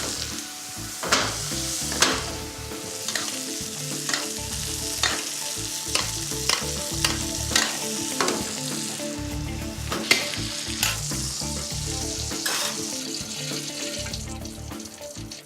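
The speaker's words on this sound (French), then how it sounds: "Donc là, on va démarrer juste la côte de bœuf." Beef rib steak searing in a pan, a dense continuous sizzle with crackling spits and occasional clanks of utensils, close and loud throughout with no talk.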